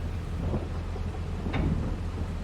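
Rain falls steadily with a low, rolling thunder rumble in a Farming Simulator 22 game, with a brief crack of thunder near the middle over continuous downpour.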